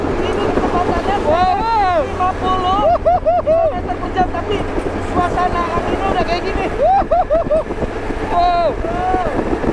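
Wind roaring past an open 1958 Jeep Willys at around 50 km/h, a loud constant buffeting rush with engine drone beneath, while people talk and exclaim over it.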